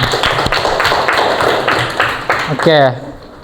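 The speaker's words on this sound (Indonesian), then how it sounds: "Suaranya, tepuk tangannya." A classroom of students claps hands together in a quick burst of sharp, close claps, with chatter mixed in and a voice rising briefly near the end.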